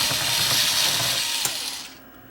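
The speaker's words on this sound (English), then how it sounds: "got a bunch of screws to pop out of the back here" Screws are driven out of the back panel of an Onkyo TX-8050 receiver with a continuous mechanical whirring and ratcheting that runs steadily for about two seconds, then cuts off.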